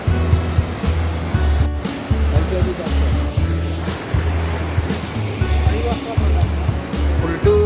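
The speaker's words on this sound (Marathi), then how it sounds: "पाऊस पडलाय आणि अशा प्रकारची ही आहे सोनवी नदी वरतून येते" The Sonvi river runs swollen after rain, a continuous rushing water roar heard close by. Someone talks over it in rhythmic bursts.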